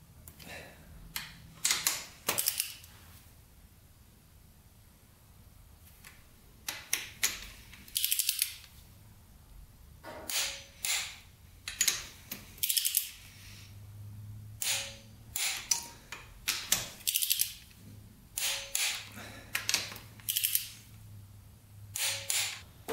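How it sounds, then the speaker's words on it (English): Bolts being torqued down on a Honda 400ex engine during a head gasket rebuild, a run of sharp metallic ratchet clicks in quick bursts with pauses between, close and clear. "these are gonna be torqued down to 33 foot-pounds, the four bolts right here"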